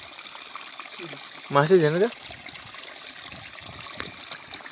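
Constant rushing of a waterfall heard from nearby, a steady wash of water sound, with someone speaking briefly over it partway through.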